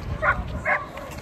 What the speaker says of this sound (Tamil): நிறைய நாய் இருக்குது.